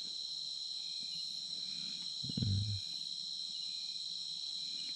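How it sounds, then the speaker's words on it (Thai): Steady, dense cricket chirping fills the night air throughout, with a brief low rumble or thud partway through. "เสียงจิ้งหรีดร้อง"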